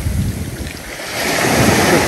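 Black Sea waves wash onto a pebble beach at Lazarevskoye near Sochi on a sunny morning, a loud, continuous surf hiss swelling toward the end, with wind buffeting the microphone.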